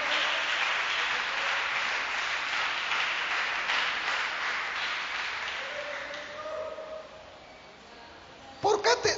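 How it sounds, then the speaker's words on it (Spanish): A church congregation applauds during an evening sermon, a broad wash of clapping that gradually thins out. A voice then speaks, and a few loud knocks or taps close the passage. "Dele aplausos en esta hermosa noche."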